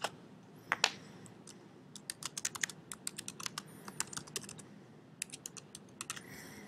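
Quick, fairly quiet clicking of keys on a computer keyboard as text is entered into a search box, in uneven bursts with short pauses.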